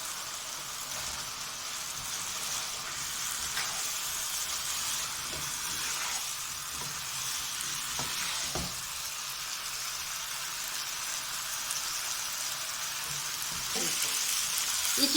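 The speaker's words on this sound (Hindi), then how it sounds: "ये चिकन को अच्छी तरह से हमने मिक्स करना है और 1-8 मिनट जो है हमने इसको कुक करना है" Chicken frying in a pan with fried onion and tomato, a steady loud sizzle with occasional soft stirring scrapes, continuous and close, swelling slightly toward the end.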